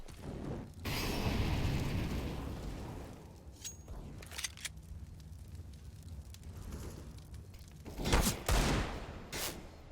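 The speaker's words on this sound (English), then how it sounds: "Shots being taken, none being landed." Counter-Strike match on the Nuke map, with scattered bursts of game gunfire and sharp shots over a busy background, a couple of loud cracks standing out toward the end.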